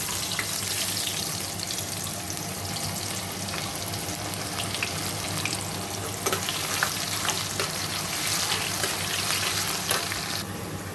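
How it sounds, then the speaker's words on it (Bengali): Chopped onion frying in a pan after potatoes and tempering spices, a continuous soft sizzle and crackle with occasional stirring clinks, steady and close, without any talk. "দেখো পেঁয়াজটা ভাজা ভাজা হচ্ছে"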